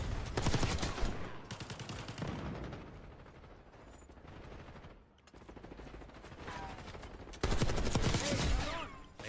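A light machine gun fires in a video game in long automatic bursts, rapid and loud. The fire pauses briefly midway with fainter mechanical sounds in the gap, then hammers on again.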